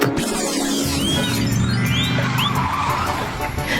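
A cartoon car pulls up and brakes with a loud, continuous tire squeal and skid over a dense, busy mix of other sounds, all close and forceful.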